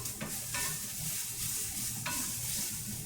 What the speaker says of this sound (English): Throw a little green onion in there with our onions.